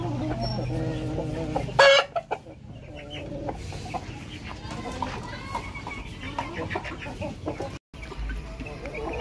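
Belgian Shamo breeder chickens, a hen and a rooster in a meat-type poultry project, cluck and call repeatedly close by, with a brief sharp squawk, over steady background noise.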